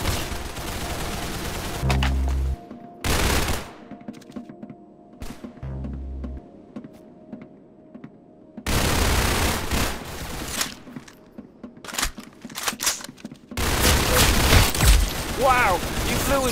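Rapid gunfire bursts from the Roblox shooter Arsenal, loud volleys and single shots broken by short quiet gaps, with game effects and talk mixed in.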